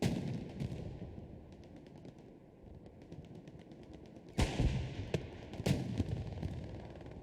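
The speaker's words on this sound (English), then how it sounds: "Retaliatory bombing run coming in." Booming blasts and crackling battle noise from a bombing run in the World War II shooter Hell Let Loose, with sharp detonations landing at intervals over a constant rumble of distant gunfire.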